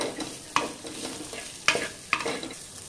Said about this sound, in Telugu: స్వీట్ కార్న్ కూడా వేసుకుందాము.